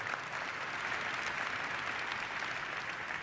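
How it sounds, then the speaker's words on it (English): Steady, dense applause from a large audience at the 2023 UNHCR Nansen Award ceremony fills the hall, continuous and even throughout with no pauses or speech. "And that deserves an applause."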